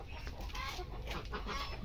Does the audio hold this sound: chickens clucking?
yes